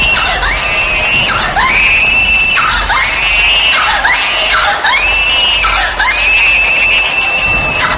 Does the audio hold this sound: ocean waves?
no